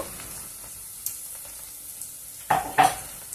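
Onions with ginger garlic paste fry in a pan for tomato rice, giving a soft, steady sizzle and a few sharp spoon scrapes and clinks near the end.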